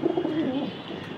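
A healthy racing pigeon gives a single short, soft cooing call, close by and clear.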